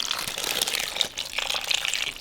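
Sauce poured from a container over meatballs in a crockpot for Swedish meatballs, a close, steady liquid pour with a soft gushing texture lasting a couple of seconds, with no talking.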